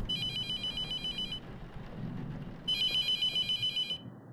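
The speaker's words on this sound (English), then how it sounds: "Who is calling my phone?" A phone's electronic ringtone trills in two bursts with a short gap between them. It is fairly close and plays on its own over faint background noise.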